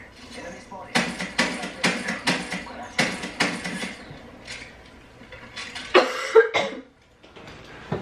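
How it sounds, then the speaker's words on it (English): A person coughs repeatedly in a burst of rapid, close hacks, then pauses and adds a few more coughs, with light clatter and a voice in the background. "You keep coughing on my damn head."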